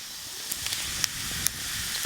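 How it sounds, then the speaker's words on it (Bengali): Two bay leaves and whole cumin sizzling in mustard oil left over from frying silver carp, a soft steady hiss with a few small crackling pops, no talking. "মাছ রান্নার জন্য আজকে ফোড়নে দেব 2টো তেজপাতা আর একটু গোটা জিরে"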